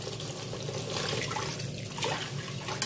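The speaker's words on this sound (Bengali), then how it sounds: "আমি এবার এর মধ্যে দেব জল।" Water pours steadily into a pot of fried spice masala while cooking echorer muitha, a continuous close rushing splash lasting a few seconds.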